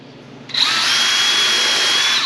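A power drill spins up and bores countersinks into wooden filler cleats, its high steady whine loud and close after a short quiet start.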